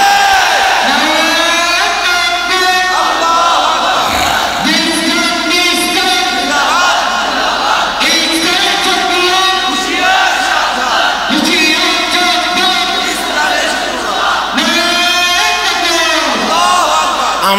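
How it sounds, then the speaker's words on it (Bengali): A large crowd at an Islamic religious gathering chants Nara-e-Takbir and Allahu Akbar in loud, repeated call-and-response waves of massed voices, filling the whole stretch continuously. "আপনারা তো নারায়ে তাকবীর আল্লাহু আকবার বলতে বলতে কাহিল হয়ে গেছেন।"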